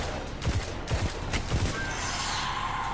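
Enemy gunfire from Fallen in Destiny 2, a few sharp bursts of shots cracking in quick succession at moderate distance, followed by a lingering whooshing hiss.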